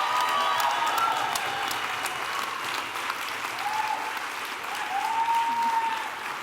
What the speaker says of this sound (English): I want you to applaud like she just won an award